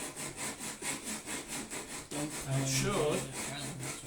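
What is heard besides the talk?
hand sanding a timber shelf piece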